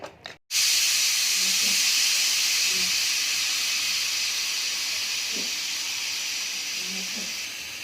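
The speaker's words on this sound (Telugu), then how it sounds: "ఇలా ఒక విజిల్ వచ్చిన తర్వాత మొత్తం ఎయిర్ బయటకు తీసేసి మూత ఓపెన్ చేసుకోండి." A pressure cooker of mutton paya vents steam after its whistle, a loud continuous close hiss that starts abruptly after a brief pause and carries steadily to the end.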